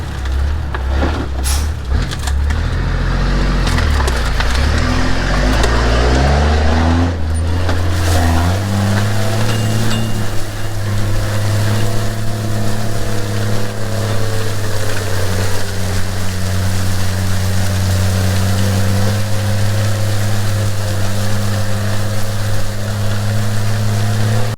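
Truck driving along a rebuilt 1800s homestead gravel road, with a steady, loud low engine drone that shifts pitch early on as it speeds up and changes gear, then holds a constant rumble with faint crunching beneath.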